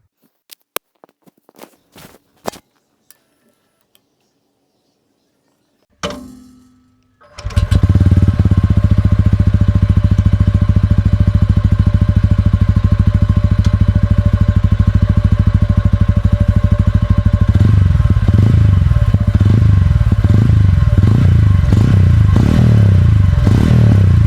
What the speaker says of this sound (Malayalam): എങ്ങനെയുണ്ട് ഈ റോണിൻ്റെ എക്സോസ് നോട്ട് വളരെ മുഴക്കമുള്ള ഇങ്ങനെ ഉരുണ്ട് കയറുന്ന സൗണ്ടാണ് ടി വി എസ് റോണിനുള്ളത്